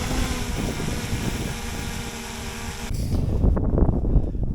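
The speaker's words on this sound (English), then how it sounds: "got the drone down safe and sound now" A small camera drone comes in to land on a freezing day near Ribblehead Viaduct in the Yorkshire Dales. A steady, close whirring of rotors with a buzzing hum holds for about three seconds, then cuts off, leaving rough wind and handling noise.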